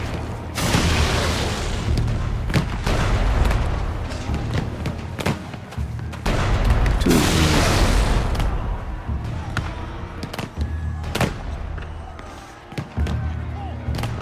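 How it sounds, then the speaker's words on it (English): Loud cannon booms and heavy thuds go off repeatedly amid a dense, noisy Shadow Tactics game soundscape, with occasional shouted voices mixed in. "Watch for cannon fire."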